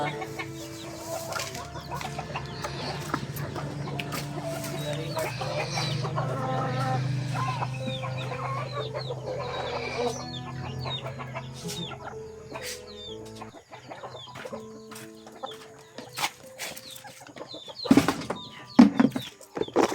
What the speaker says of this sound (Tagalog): tapos ko nang pinakain yung manok